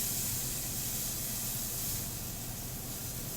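Steak fat laid into a hot pan sizzles in a steady, dense hiss that stays even and fairly close throughout, with no talking.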